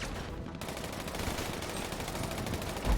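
Rapid machine-gun fire from the video game GTA 2 rattles continuously in a dense, steady stream of shots, loud and unbroken, with no talk over it.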